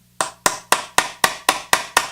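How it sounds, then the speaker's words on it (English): A fret hammer taps inserts into a guitar part in eight sharp, evenly spaced strikes, close and bright, each ringing briefly before the next, with no talking. "we do have a fret hammer right here, and we're going to tap these inserts in"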